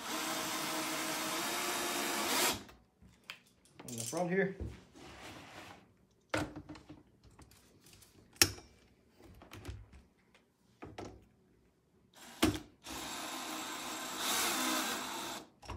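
Power drill bursts during assembly of a three-layer chick brooder, a long whine at the start and another near the end, with clamping clatter and a voice talking in between.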